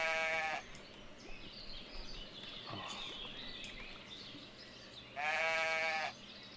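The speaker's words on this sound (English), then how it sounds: "Oh, there's baby sheep. Yes. There's a ram." Two bleats from sheep in the village-building video game Ostriv, a baby sheep and a ram, one at the start and one near the end, each clear and fairly close over a faint farmyard ambience with a soft bird call between.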